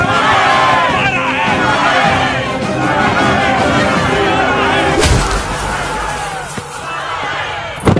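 A dense crowd murmurs and stirs on all sides, a loud, continuous babble of many voices with a sharp thump near the middle.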